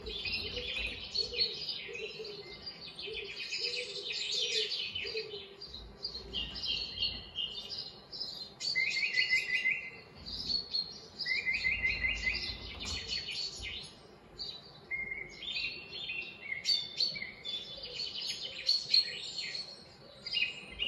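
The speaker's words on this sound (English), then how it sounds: "Together with the sound of the birds all around us." Birds chirp and warble all around outdoors, overlapping calls and short trilled phrases coming from several directions at moderate distance over a quiet background.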